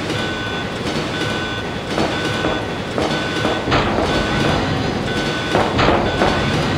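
A rumbling train in motion from the Shadows of the Empire video game, loud and steady with periodic clattering beats and a faint high tone running throughout.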